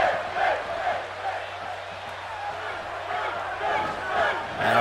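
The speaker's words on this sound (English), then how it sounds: "Now the crowd chanting for Finn here in Calgary." A virtual arena crowd in Calgary chants for Finn Balor during a WWE 2K18 match, a rolling, rhythmic roar of voices that swells and dips over a commentator talking throughout.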